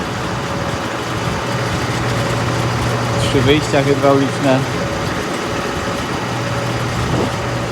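A 2014 Claas Axion 810 tractor, 228 hp and fitted with a Quicke Q88 loader, idles with a steady low engine drone while someone talks over it.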